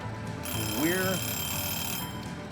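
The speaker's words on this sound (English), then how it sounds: "and there goes the timer" A timer alarm goes off in Farming Simulator 2011, a steady ringing electronic tone heard under game background noise.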